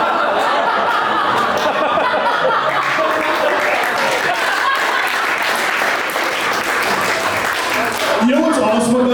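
A comedy club audience bursts into sustained, dense applause mixed with chuckles and laughter at a headlining stand-up set, loud and close throughout, with a voice briefly emerging near the end.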